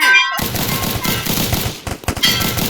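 Bursts of automatic gunfire in a Roblox zombie game, loud, rapid overlapping shots after a short quiet opening, with uneven pauses between volleys.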